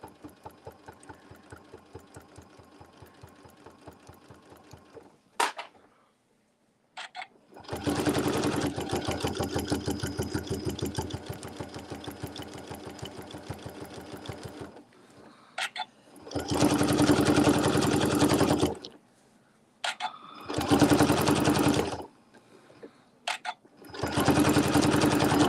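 A sewing machine stitches with its feed teeth up during ruler work on a circular frame, running in loud bursts of rapid motor whir and needle chatter separated by short pauses and quieter idle stretches.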